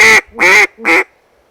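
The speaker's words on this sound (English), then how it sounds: "So that's a single reed duck call." Three loud, nasal quacks from a reed duck call, close up, the second one longest, then silence.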